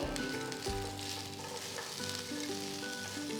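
Spinach leaves and other palak pulao ingredients sautéing in a pan, giving a steady close sizzle with faint tonal kitchen hum underneath and no talking.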